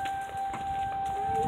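A tornado siren in Richfield, Ohio holds a steady tone heard from a distance outdoors, faint under the nearby ambient noise.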